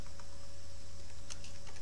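Code being typed on a computer keyboard, a quick run of soft close keystrokes over a steady low electrical hum.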